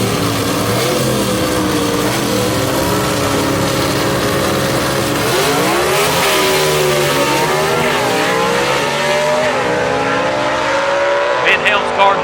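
Gasser drag race cars launch off the starting line at Knoxville Dragway, their loud engines roaring and rising in pitch as they accelerate away, with commentary talk running underneath throughout.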